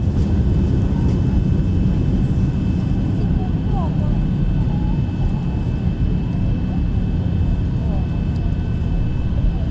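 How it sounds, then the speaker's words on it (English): Zibo 737 mod airliner in X-Plane 12 applying jet reverse thrust after landing, a steady, loud, broadband engine roar sustained throughout with a faint voice talking over it. "That's reverse thrust."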